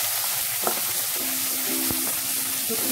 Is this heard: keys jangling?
no